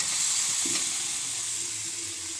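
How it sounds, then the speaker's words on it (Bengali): Soybean chunks sauté in hot oil and spice masala, a steady close sizzle with a few scrapes of stirring against the pan. "সয়াবিনগুলো ভালো করে কষিয়ে নিচ্ছি"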